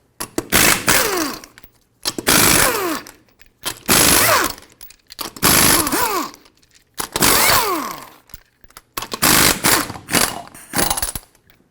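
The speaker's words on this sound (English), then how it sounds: "Use a 21mm socket, remove all 6 of your lug nuts so we can then remove the wheel." Impact wrench with a 21mm socket removing the six lug nuts from a 2005-2021 Nissan Frontier 4.0L V6 wheel, five loud rattling bursts of about a second each separated by short pauses, close up and alone.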